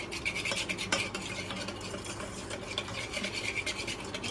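A spoon briskly whisks yogurt with spices in a bowl, a rapid, steady scraping and swishing with small clinks, close and continuous with no talk.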